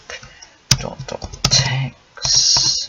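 Quick keystrokes on a computer keyboard, a few sharp clicks followed by a short burst of rapid typing, close up with no talking.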